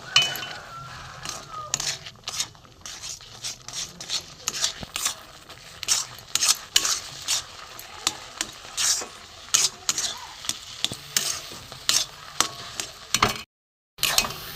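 Semolina is stirred into boiling water in a pot to form a dough, heard as repeated scraping, thumping strokes of a spoon at an uneven rhythm, close and moderately loud, with a brief silence near the end.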